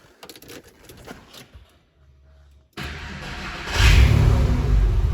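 A Porsche 996 or 997 with a lazy starter motor when hot, a few faint clicks and a brief silence, then the engine catches with a sudden rumble and settles into a loud, close, steady idle.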